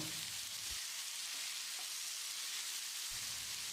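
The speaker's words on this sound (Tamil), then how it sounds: "இதில் அஞ்சு தக்காளியை நறுக்கி வச்சுருக்கேன் இதை போட்டு வதக்கிடலாம்" Tomatoes sizzle steadily in a hot pan, a constant hissing fry with a couple of brief stirring bumps.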